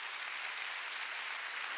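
Church congregation clapping together during a Sunday worship sermon, a steady, dense wash of applause that holds evenly throughout, fairly distant and at moderate volume.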